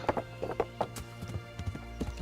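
Horse hooves clip-clop at a steady riding gait in the medieval game Kingdom Come: Deliverance, with close, evenly spaced hoofbeats running through the whole stretch.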